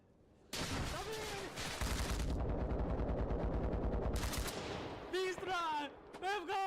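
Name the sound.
PKM machine gun firing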